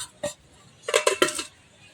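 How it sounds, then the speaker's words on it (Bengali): Metal lid set onto a pan of egg momos for steaming, one light clink followed by a short cluster of sharp metallic clatters as it settles, close and clear with no talk. "এখন আমি চাপা দিয়ে সিদ্ধ করে নেব"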